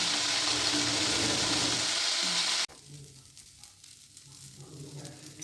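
Loud, steady sizzling of sea fish (silver pomfret) frying in hot oil in small batches that cuts off abruptly midway, leaving quieter kitchen noise with soft bubbling.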